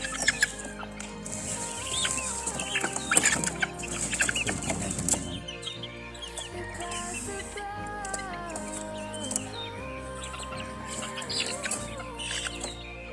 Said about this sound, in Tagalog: Puro po lalaking manok yan.